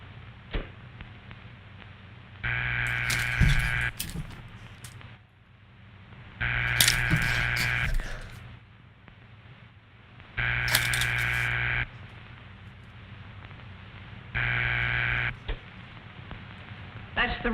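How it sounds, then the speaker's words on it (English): Telephone ringing signal tone in the video game Guardians of the Galaxy, four evenly spaced bursts of buzzy ringing, each about a second and a half long, separated by pauses filled with low background noise. "That's the ringing signal."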